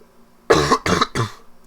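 Three hoarse coughs in quick succession, close and fairly loud, with no talking around them.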